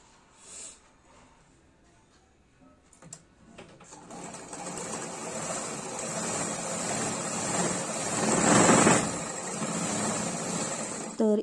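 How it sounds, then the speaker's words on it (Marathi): An overlock sewing machine stitches along the lower edge of a blouse, whirring faster into a steady, close, continuous buzz that peaks briefly, after a few quiet handling sounds. "खालच्या बाजूलाच आपल्याला ओव्हरलॉक करून घ्यायचं आहे."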